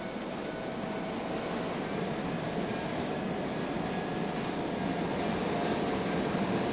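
A PATH train rolls over the Newark drawbridge in the railroad simulator game Trainz, giving a continuous, even rumble and rail hum of moderate loudness with no pauses.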